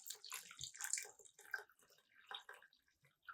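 Water pours into a pot of potatoes, sputtering and splashing faintly in uneven bursts with small drips, close but quiet, and no one talks.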